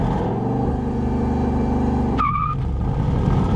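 A 2024 Ford Mustang GT at about 3,000 RPM on launch control, its engine droning with steady harmonic tones while the clutch slips, then breaking off into a brief squeal and a dropping, bogging rumble.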